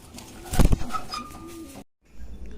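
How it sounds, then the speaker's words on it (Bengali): A pair of white running beauty homer pigeons coo softly up close, with a low throaty burst near the start over faint background noise and a brief quiet gap. "তো এখন দেখছেন এক জোড়া রানিং বিউটি হোমারের পেয়ার, হোয়াইট কালারের"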